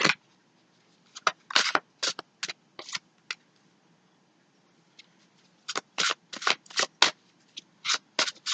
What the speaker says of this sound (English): I'm going to go ahead and pull the six tarot cards